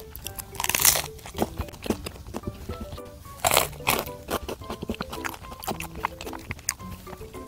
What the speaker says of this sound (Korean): 아삭바삭해서 과자 먹는 느낌이에요.